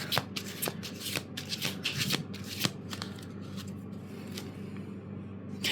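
Tarot cards are shuffled by hand close up, giving a rapid run of crisp riffling slaps and flicks, densest in the first few seconds and then thinning into softer shuffling, with no talking.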